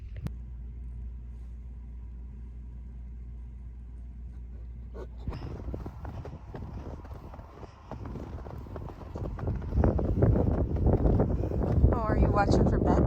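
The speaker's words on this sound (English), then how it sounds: "The wind is supposed to just continue getting worse." Strong blizzard wind roars and buffets steadily, close and loud, with a low rumble that grows rougher and stronger toward the end.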